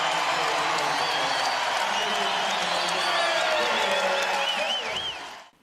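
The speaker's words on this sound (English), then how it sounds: "Standing ovation from the crowd" Crowd rising to its feet in a standing ovation: sustained applause, cheering and whoops from a large audience, steady and full before fading out abruptly at the end; a voice talks over it.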